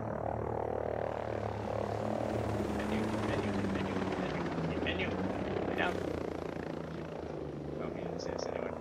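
Continuous droning thrum of a helicopter in a video game, a steady low rotor rumble holding at moderate level throughout with a few brief sharper clicks over it.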